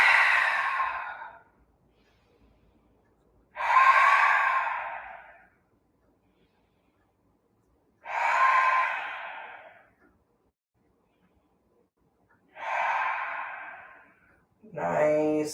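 Slow, deep breaths during a yoga pose: four long, airy exhales spaced several seconds apart with near silence between, close and clear, ending in a short nasal intake.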